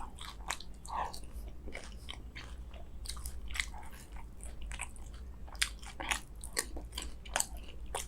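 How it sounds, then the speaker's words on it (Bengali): Large puchka (phuchka) being eaten up close, with repeated crisp crunches and bites followed by soft chewing, quiet and steady with no talking. "আমি যে এতগুলো খাই"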